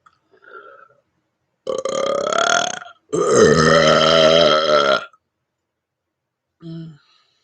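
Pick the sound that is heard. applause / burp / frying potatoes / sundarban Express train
burp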